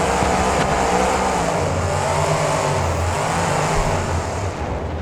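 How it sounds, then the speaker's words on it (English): Two Warbird-inspired monster trucks rev their engines hard on a straightaway during a BeamNG monster truck race at Allegiant Stadium, a loud, close, sustained engine roar with shifting low rumbling tones that eases slightly at the end. "These two Warbird-inspired trucks showing off their horsepower in the straightaway."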